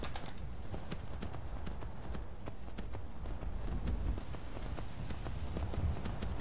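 Rapid rhythmic hoofbeats of a horse galloping in Skyrim, steady and fairly close, with faint wind and ambient noise underneath.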